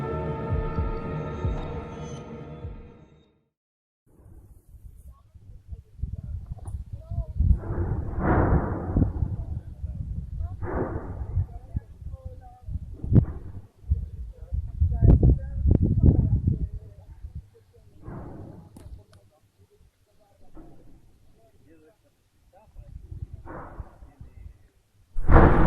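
Deep rumbling echo rising from a volcanic crater before eruption, a series of low booming surges and throbs that swell and fade irregularly over twenty-odd seconds, with a brief voice at the start.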